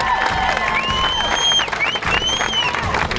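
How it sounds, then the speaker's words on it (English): An outdoor crowd at a summer community running event applauds and cheers for Special Olympian runners. Clapping mixes with whoops and high whistling shouts, loud and close. "so let's give them applause."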